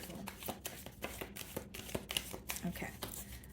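Tarot cards are shuffled by hand in a quick run of soft riffling and tapping flicks, close and fairly quiet, under brief spoken remarks.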